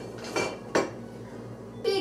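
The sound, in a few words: kitchen utensils clattering: spatulas and tongs being handled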